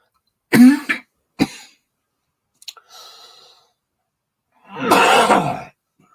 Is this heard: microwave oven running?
no